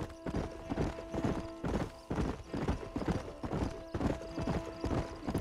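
Horse hooves clip-clop on the ground in the Western video game Red Dead Redemption, a steady, loud rhythmic stream of hoofbeats over a low steady hum, with no talking.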